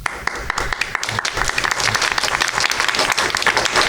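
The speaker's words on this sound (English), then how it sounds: "Ladies and gentlemen, round of applause." A studio audience breaks into loud, dense applause that starts with scattered claps and swells into a sustained ovation.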